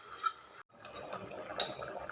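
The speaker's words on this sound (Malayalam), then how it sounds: "ഞാൻ 2-ാം പാലും 3-ാം പാലും ഒഴിക്കും" Second and third extracts of coconut milk are poured into a simmering payasam, a short, quiet liquid splash and trickle with a brief gap, heard up close without talk.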